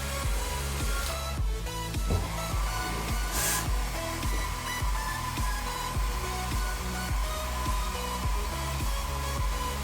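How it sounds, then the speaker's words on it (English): A blow dryer runs steadily, drying a dog that got wet in the rain. Its constant whooshing roar continues through the whole stretch, with a rhythmic music track playing beneath it. "You want to go away from the blow dryer?"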